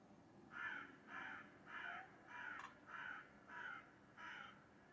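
A crow outdoors gives seven harsh, evenly spaced caws over about five seconds, moderately loud against a steady background hiss, with no voices.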